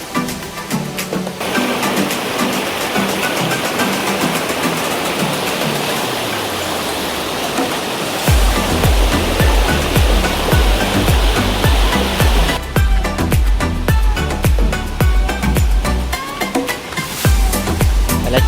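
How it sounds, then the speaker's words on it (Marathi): A monsoon-swollen river rushes over a small dam and waterfall at Banganga dam, producing a loud, steady roar of churning water that continues throughout with no voices. "तर नदी पण तुम्हाला दाखवतो."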